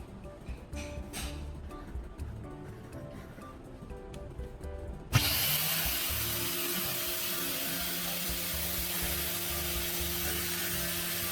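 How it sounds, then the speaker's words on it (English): Angle grinder cutting a circular shape from a metal plate starts abruptly midway, a loud continuous whine and grind after quieter handling and rustling. "I'm using the angle grinder with the marked circle on the metal plate, precisely guiding it to cut a perfect circular shape."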